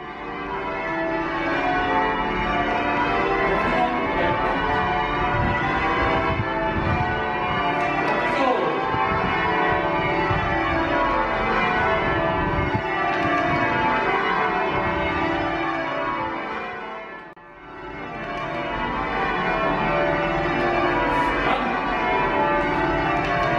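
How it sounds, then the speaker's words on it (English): Church tower bells in an American bell tower ring changes, a dense, continuous cascade of overlapping bell strikes in steady rhythmic rounds, loud and sustained with only a brief dip, no voices. "I've rung these bells many times, but rarely got a chance to sit and just listen."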